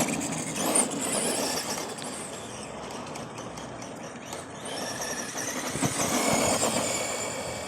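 Arrma Granite RC truck with a 550 12-turn brushed motor and matching ESC running in an open field, a steady buzzing motor whine that rises and falls with throttle, fairly loud and continuous, with no voices.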